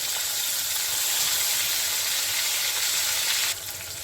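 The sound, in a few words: katla fish frying in hot mustard oil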